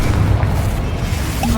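A Confringo blast spell explodes in Hogwarts Legacy, a single short booming burst with a dense low rumble that fades within a second and a half.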